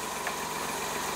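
A car engine idles with a steady, even rumble and a light knocking vibration, close and continuous, with no voices.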